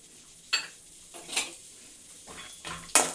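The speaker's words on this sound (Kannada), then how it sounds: "ಇದೊಂಚೂರು ಬ್ರೌನ್ ಆಗೋ ತನಕ ಫ್ರೈ ಮಾಡ್ತೀನಿ" Peanuts are stirred in hot oil in a pan while tempering puffed rice, with a few sharp spatula clinks and scrapes against the pan over a faint, quiet sizzle.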